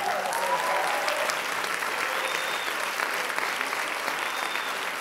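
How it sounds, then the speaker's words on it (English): Enthusiastic audience applause from a crowd at a live stage show, a dense, steady clatter of clapping that stays fairly loud and unbroken for the full five seconds. "Big round of applause for Mr. Alex."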